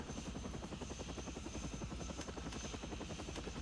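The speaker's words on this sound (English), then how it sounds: "Seemed like I'd session this helicopter." Helicopter in the Shaun White Snowboarding video game on Xbox 360, a steady whirring rotor chop that throbs continuously at even loudness for the whole stretch, with no talking over it.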